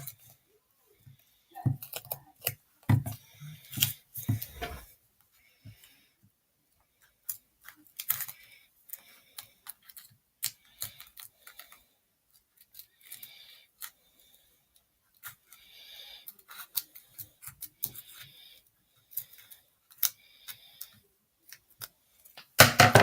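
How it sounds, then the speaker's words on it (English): Small snips and clicks from cutting a tiny strip of material off a handmade Batman vault box craft, sparse and quiet with scattered pauses, no talking. "I'm gonna need to cut off the tiniest bit of this."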